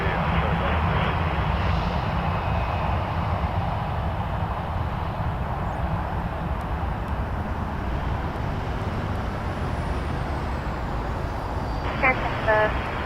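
An airplane at Toronto Pearson Airport produces a loud, continuous broadband jet roar that holds steady without fading, with a faint higher whine drifting across it near the end.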